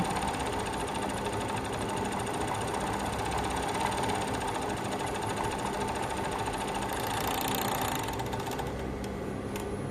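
An overlock sewing machine stitching along a fabric edge to finish the cut, running as a loud, steady, fast mechanical whir and rattle that continues throughout.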